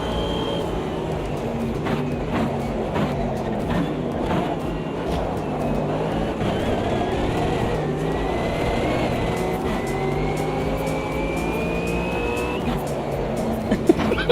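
Racing cars in a community racing game roar steadily close by, engine tones rising with gear changes and a thin tyre screech of a lock-up drawn out near the end, continuous and loud with no talk.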